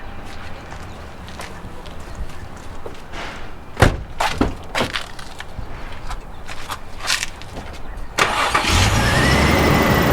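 An Infiniti G35 at the roadside, just jump-started from a battery, cranks through a few short clicks and turns and then catches, settling into a steady engine run with a rising rumble near the end.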